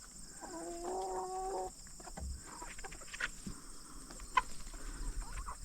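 Chickens and roosters clucking near a chicken coop, a rhythmic run of nearby clucks early on followed by scattered softer clucks and calls over quiet outdoor background, no talk.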